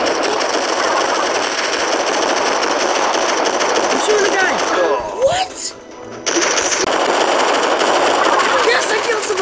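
Rapid automatic gunfire in a Call of Duty–style shooter video game, loud and nearly continuous bursts with a brief pause midway before the shooting resumes, with a player's voice excited under the din.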